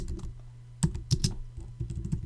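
Rapid keystrokes on a computer keyboard during PHP coding, a steady cluster of close clicks with a few sharper, louder taps standing out, heard alone with no voices.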